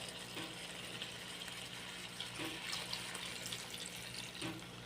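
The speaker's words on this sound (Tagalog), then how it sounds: "Konting tubig lang para maluto yung" A small amount of water is poured into a cooking pot of okra, a quiet, steady trickle and splash at close range with no speech.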